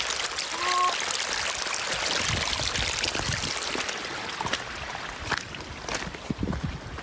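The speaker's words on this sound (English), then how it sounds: "It's a whole river." River water flows and splashes along a hiking trail, a continuous rushing gurgle with scattered nearby splashes and knocks, moderately close, with no talking.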